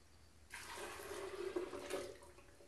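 Water poured into a container for making nut milk makes a steady close splashing rush that starts abruptly and keeps going without speech.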